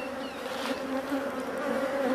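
Bees buzz steadily around an automatic AutoFrame beehive box during a honey harvest, a close, dense droning hum with a few individual insects whining past, and no voices.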